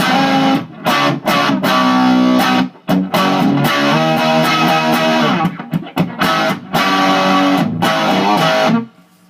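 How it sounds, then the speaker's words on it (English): A Hughes & Kettner Tubemeister 36 tube guitar amp runs with its master volume fully up in 1-watt mode, giving loud, continuous distorted electric guitar chords with brief gaps before ringing out at the end. "Let's dime the master at 1 watt and see if we get some kind of non-master volume tones going."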